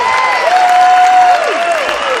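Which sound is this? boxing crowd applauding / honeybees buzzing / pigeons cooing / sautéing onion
boxing crowd applauding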